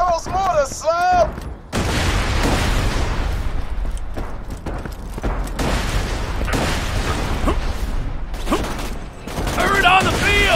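Mortar blasts and rapid gunfire in Borderlands 2, a dense, continuous barrage of booms and shots over a rumbling low end, with voices breaking in at the start and end.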